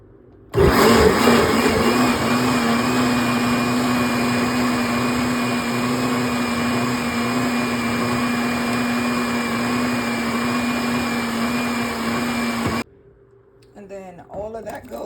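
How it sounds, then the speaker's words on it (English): A countertop blender on a puree smoothie setting runs steadily at close range for about twelve seconds, pureeing lamb and green lentil stew in a loud, even whir before cutting off abruptly. "So we'll blend this. We're gonna put it on the puree smoothie mode."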